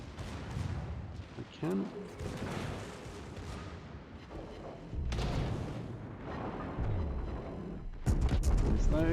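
Warship guns fire in World of Warships, with heavy booming salvos and explosions mixed into dense battle noise while someone talks over the action throughout.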